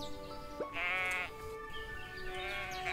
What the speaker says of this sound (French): j'ai tous les moutons qui sont en train de se barrer